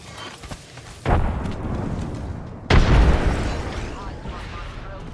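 Two frag grenade explosions in the video game Apex Legends: a deep boom near the start and a louder second blast a moment later, each rumbling off over a couple of seconds, with a voice talking around them.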